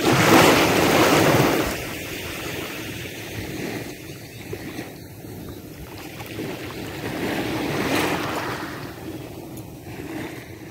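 Sea waves wash steadily onto a beach, a broad rushing surf that swells and recedes with gusts of wind buffeting the microphone, and no voices.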